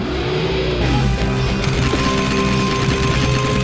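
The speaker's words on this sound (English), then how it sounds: "Yeah! Machine gun." Rapid, continuous machine gun fire in the Alex Jones NWO Wars video game, loud and dense bursts over an engine-like drone, with no pauses across the stretch.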